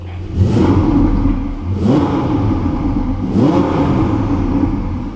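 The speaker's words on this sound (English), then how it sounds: "let's hear what this turbocharged engine sounds like then" A turbocharged Ferrari 488 GTB engine revs up three times in quick blips, each rising and falling back to idle, loud and close.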